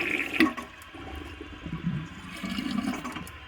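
A 1964 Gerber Mt Vernon toilet flushes and refills during a test, water rushing and gurgling steadily at close range with no talking.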